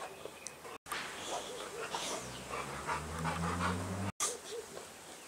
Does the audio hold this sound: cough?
no